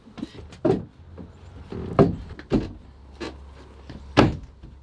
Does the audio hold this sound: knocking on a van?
yes